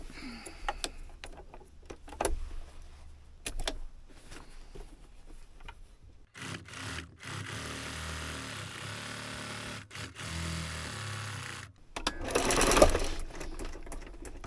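A sewing machine fitted with a walking foot stitches a Christmas sewing project, with scattered small handling clicks first, then a steady run of machine stitching, a pause and a short final burst.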